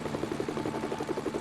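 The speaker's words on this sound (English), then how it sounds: "So, here is the police helicopter." Police helicopter in the Lego Batman 2 DC Super Heroes video game, its rotor a steady rapid thudding chop that stays constant and close with no other sounds.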